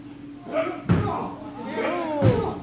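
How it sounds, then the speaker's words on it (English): Wrestler bounced off a chair in a TEW match: two sharp slamming impacts land amid excited commentary talk. "he just bounced Brian Atomic off that chair"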